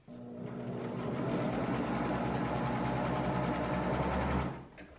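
A sewing machine stitches a dart in fabric with a steady, close, rapid mechanical whir that runs continuously, then stops near the end.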